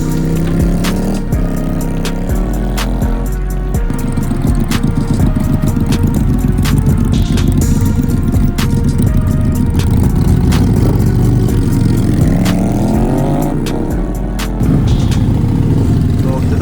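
A QJ Fortress motorcycle being ridden, its engine rising and falling through gear changes with a loud continuous drone and rushing road and wind noise, heard close up.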